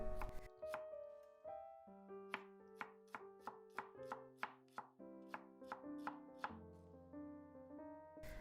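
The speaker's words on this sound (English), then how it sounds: "Peel daikon radish, cut lengthwise into 6 or 8, depending on how big it is, and thinly slice into 1/8 of an inch thick." A knife thinly slices peeled daikon radish on a cutting board in quick, steady, evenly spaced cuts, close and crisp, with background music playing throughout.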